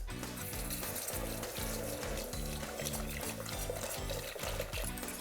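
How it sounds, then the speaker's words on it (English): Milk and whipping cream are poured into a golden roux in a pan for bechamel sauce, a steady close liquid gurgle and splash with a rhythmic low bubbling throughout. "we're gonna add our milk and whipping cream"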